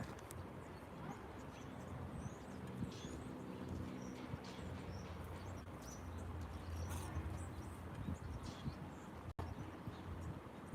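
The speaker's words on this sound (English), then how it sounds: "I can hear the birds singing." Birds sing and chirp faintly in an urban Boston garden on a sunny day, scattered calls and coos over a low steady background hum, with no talk.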